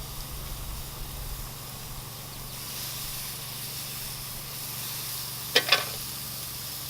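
Ground pork burger patties sizzling over direct heat on a grill at about 500 degrees, a steady close hiss throughout with a couple of sharp clinks near the end.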